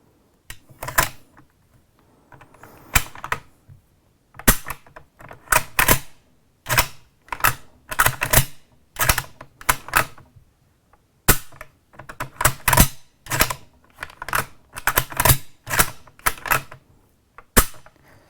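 The dust cover of a Type 38 Arisaka rifle is worked on a table, giving a series of sharp metallic clacks and rattles in irregular bursts with short pauses between them, close and distinct.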